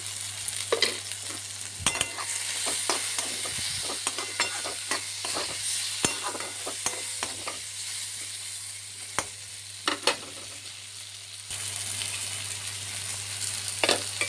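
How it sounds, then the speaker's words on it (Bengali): Ridge gourd fries with cumin, coriander and chili powder in a pan, giving a steady close sizzle broken by sharp scraping taps of stirring, with no voices. "জিরের গুঁড়ো, ধনের গুঁড়ো, লঙ্কার গুঁড়ো দিয়ে দিলাম, ভেজে নেব একসঙ্গে।"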